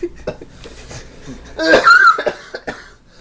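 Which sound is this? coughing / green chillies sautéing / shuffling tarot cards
coughing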